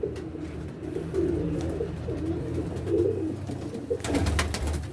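Pigeons coo outdoors in soft, repeated rolling calls over a low background hum, with a few sharper clicks and rustles near the end and no voices.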